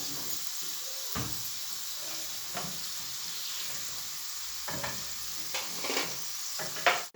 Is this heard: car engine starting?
no